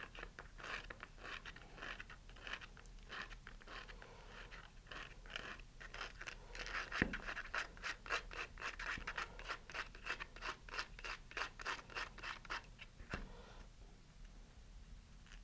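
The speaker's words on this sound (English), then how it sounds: "Just sand it down just slightly. And I got some medium grit sandpaper here." Medium grit sandpaper rubs over a model rocket nose cone in quick, even back-and-forth strokes. The close, quiet scratching runs without a break and never speaks over it.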